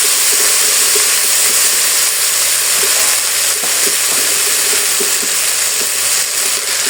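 Callaloo frying and steaming in a pot with butter over a slow fire, a steady loud sizzle and hiss with small crackles and pops scattered through it, no voices.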